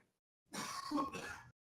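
A single short, rough cough or throat-clearing burst up close, about a second long, with silence before and after.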